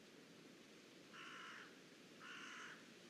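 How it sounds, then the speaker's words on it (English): Two harsh crow caws ring out a second apart outdoors, fairly distant over a steady hiss of quiet background noise, with no talking. "Can you hear those crows?"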